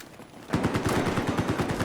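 Rapid automatic gunfire in Battlefield 4 Domination on the Dawnbreaker map, a fast, even burst of loud, close shots starting abruptly after a quiet moment.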